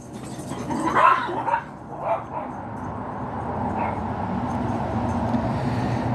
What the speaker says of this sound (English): My dog is seeing squirrels.